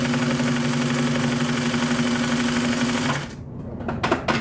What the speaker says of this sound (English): Whenever I stop sewing, I like to try to make sure that my needle is down in my fabric.